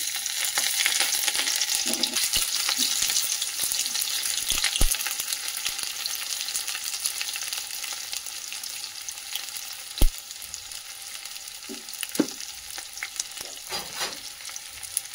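Dry chili and garlic fry in hot mustard oil with a close, even crackling sizzle, punctuated by a few scattered clicks and scrapes as they are stirred.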